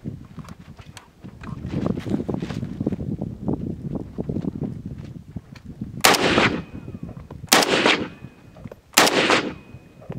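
Three loud, sharp shots from a PTR 91 rifle in .308 ring out about a second and a half apart, following a stretch of lower rumbling and handling noise.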